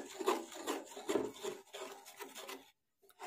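Sugar being stirred continuously in a pan on a gas stove as it melts into caramel for plum cake, a soft, close scraping and rubbing in irregular strokes that stops briefly near the end.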